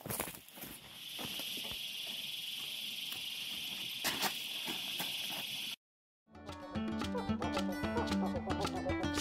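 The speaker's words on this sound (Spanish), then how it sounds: "Chicharra. Chicharra sanjuanina." Chicharra sanjuanina cicada in San Juan, Argentina, giving a steady, loud high-pitched buzzing drone for several seconds, then a brief silence before music takes over.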